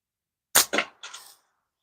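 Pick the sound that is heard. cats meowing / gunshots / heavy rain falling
gunshots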